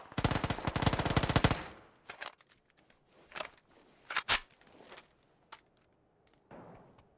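PUBG gunfire opens with a loud, sustained automatic burst lasting nearly two seconds, followed by scattered single shots and short volleys spaced out over the remaining seconds.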